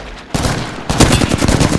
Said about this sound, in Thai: เฮ้ยมันยิง